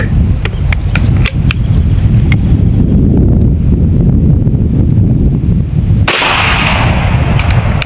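Shots from an M50 PCP air pistol on an outdoor range: a series of sharp cracks, then one much louder crack near the end, all heard over steady wind noise.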